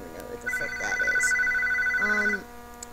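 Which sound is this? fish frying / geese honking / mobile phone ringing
mobile phone ringing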